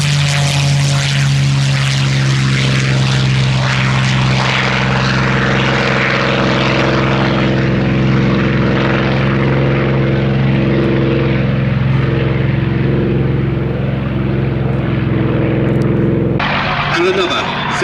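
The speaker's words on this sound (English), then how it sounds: "the Russian Spitfire just taking off runway 201." A Spitfire propeller fighter at the Shuttleworth airshow takes off with a loud, close, throbbing engine drone that holds steadily and then fades with a sudden change near the end; people talk over it.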